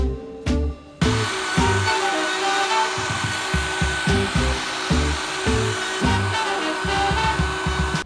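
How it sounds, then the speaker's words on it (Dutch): A loud router mounted in a router table whines steadily as it trims wood, its tone rising and dipping in a rough rhythm with each pass. "En dan gaan we met de bovenfrees en de freestafel ga ik het allemaal even schoonfrezen."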